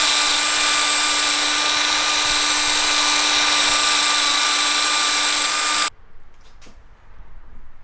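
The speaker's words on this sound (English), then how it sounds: "My drill won't let me go in the fastest speed." Power drill boring holes into a skateboard deck, a loud steady high whine that runs for about six seconds and then cuts off abruptly, leaving quieter shuffling.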